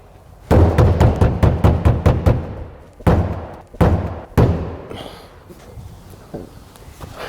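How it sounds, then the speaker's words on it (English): The fuel tank of a Golf GTI rally project car is struck by hand, giving a quick run of about eight hollow knocks followed by a few spaced heavier thuds, close and loud, with faint rustling afterwards. "That's what you call diagnostic tapping."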